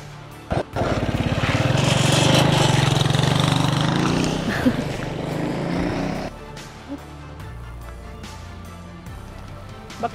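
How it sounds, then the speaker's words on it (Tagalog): A motorcycle carrying a woman rumbles close by and then winds down as it comes to a stop, its engine sound easing off into a low idle and quiet surroundings. "At isang motor nga ang huminto na may nakasakay na babae"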